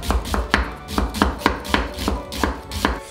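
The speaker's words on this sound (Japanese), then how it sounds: "玉ねぎは軸を取っていただいて薄切りにしていきます。" A kitchen knife slices an onion thinly on a cutting board, giving a steady series of about a dozen crisp, evenly spaced chops, close and loud with no voices.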